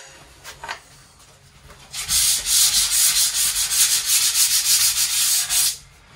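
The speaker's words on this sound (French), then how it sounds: "Voilà, c'est la cale à poncer." A sanding block worked over a flat surface during fit-out of an accessible WC: a brief scrape, then about four seconds of quick, even back-and-forth rasping strokes, close and clear, ending abruptly.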